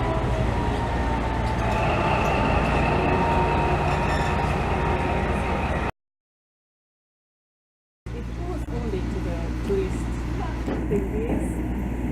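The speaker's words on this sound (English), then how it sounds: "Here comes the train, but it's not ours." A train rumbles loudly along a station platform in Vienna with steady rolling noise and a high whine, breaks off into silence, then continues with clatter.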